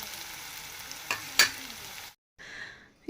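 Tomato and coriander leaves fry in a pan with a steady close sizzle, broken by a couple of sharp utensil clinks and a brief cutoff before the frying hiss resumes more softly.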